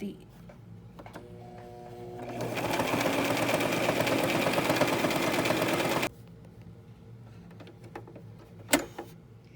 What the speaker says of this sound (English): you just want to sew the third side together